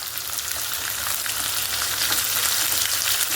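Sliced shallots and a medium onion sizzle steadily in hot oil in a pan, a dense, continuous frying hiss that stays close and fairly loud throughout with no voices.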